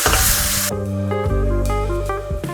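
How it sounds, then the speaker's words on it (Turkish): Fresh green beans sautéing in oil with onion and garlic, stirred in a pan, a close steady sizzle with scraping stir noises, no voices. "Taze fasulyelerimizi ilave ettik. Onları da böyle bir iki dakika çevirdik yağda kavurduk."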